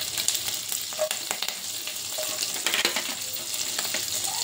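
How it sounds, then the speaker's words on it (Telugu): Cumin seeds frying in hot oil for jeera rice, a steady close crackling sizzle with scattered pops and light stirring throughout. "జీరా మంచి వేగాలండి, లేకపోతే అసలు టేస్ట్ ఉండదు"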